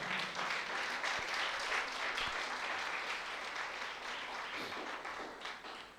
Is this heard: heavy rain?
no